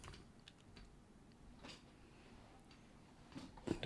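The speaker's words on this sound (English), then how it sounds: "I have to try to fix my keyboard, I think." Quiet, steady typing on a computer keyboard with a broken A key: soft, irregular key clicks go on throughout, with a slightly louder clatter near the end.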